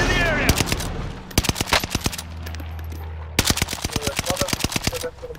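Gunfire in the video game Call of Duty: Modern Warfare, rapid automatic bursts and sharp single shots crackling close and loud, broken by a short lull before another dense volley.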